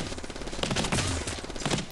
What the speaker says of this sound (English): the way you use a shotgun, but it's shooting like 3 razors at them